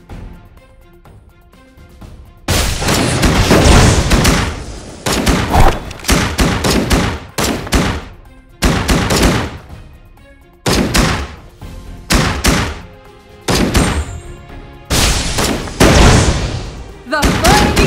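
Gunfire in the Legend of Ace shooter game, heard as loud, repeated bursts of rapid shots separated by short pauses, following a quieter opening couple of seconds.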